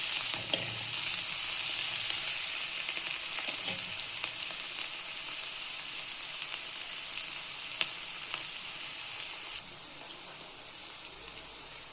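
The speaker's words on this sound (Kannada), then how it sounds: "ಸ್ವಲ್ಪ ಕೊತ್ತಂಬರಿ ಸೊಪ್ಪು ಹಾಕಿ ಫ್ರೈ ಮಾಡಿ ಎಲ್ಲ ಫ್ರೈ ಮಾಡಿ ಆದಮೇಲೆ ಹಂಗೆ ಫ್ರೈ ಮಾಡ್ತಾಯಿರಿ." Coriander leaves frying in a pan for a beetroot sandwich filling, a continuous soft sizzle with occasional stirring scrapes and clicks, no one speaking.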